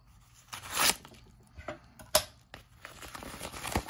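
An envelope is slit open with a handheld envelope opener: a few short, crisp tearing bursts, close and fairly quiet, with soft rustling of paper in between.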